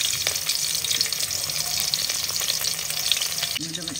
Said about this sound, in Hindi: अच्छा अब मैं प्याज फ्राई कर रही हूँ।